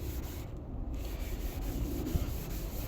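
Soft, repetitive rubbing of Cif cream cleaner on a car headlight, like a cloth scrubbed steadily back and forth over a hard smooth surface, quiet and close.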